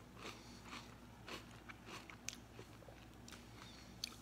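Cinnamon Toast Crunch churros are bitten and chewed close up, giving soft, repeated crunchy crackles and faint mouth sounds at a low level with no talking.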